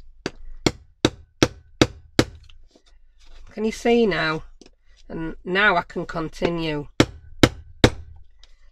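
Sharp metallic hammer taps on a metal eyelet in a quick series, then a stretch of talking, then a few more evenly spaced strikes.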